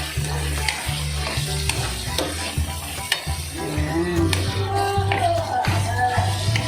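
Carrots sizzle and fry with chicken liver and shrimp in a hot pan, with repeated stirring and scraping taps of a utensil over a steady close sizzle.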